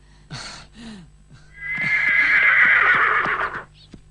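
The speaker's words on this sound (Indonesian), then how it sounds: "kuda sudah siap" A horse whinnies loudly and at length, its drawn-out neigh rising after a few shorter snorts and huffs, heard alone with no talk.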